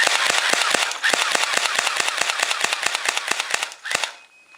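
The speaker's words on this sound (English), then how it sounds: "I'm going to shoot to show you how fast it can shoot." A BlackViper M92F electric airsoft pistol dry fires with no BBs loaded, giving a fast, even stream of sharp mechanical clacks for about four seconds before stopping.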